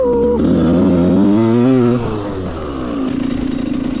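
A Suzuki two-stroke dirt bike revs hard through a power wheelie on a field trail, its loud, buzzing engine climbing in pitch, then dropping back to a rough, throbbing lower note.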